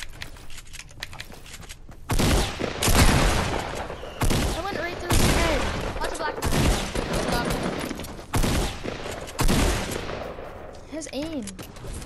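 Pump shotgun shots in a first-person video game crack out as a run of loud, close blasts mixed with rapid gunfire and game effects, while a voice talks over part of the action.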